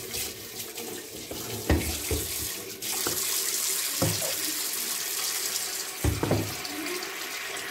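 Water runs from a tap into a sink while something is rinsed and washed in a village kitchen, a steady close stream with occasional clunks and splashes of handling throughout.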